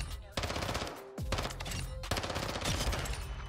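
An MP7 submachine gun in Warzone fires in rapid full-auto bursts, three close, loud strings of shots separated by brief pauses.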